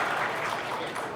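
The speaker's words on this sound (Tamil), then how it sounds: "இவருக்கு ஒரு நல்ல கைத்தட்டல் கொடுத்துடலாம்." Audience applause at a Tamil film audio launch event, a brief dense burst of many hands clapping, moderately loud and uninterrupted with no voices on top.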